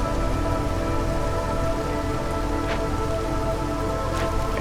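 Steady rain pours in the video game Against the Storm, a dense even hiss of drops on surfaces with occasional faint sharper taps, continuous and alone with no voices.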